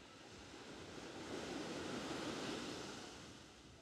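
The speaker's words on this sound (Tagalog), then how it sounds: "Lakas ng alon, guys." Strong ocean surf roars continuously, a broad wash of crashing waves swelling louder toward the middle before easing slightly, with some wind noise.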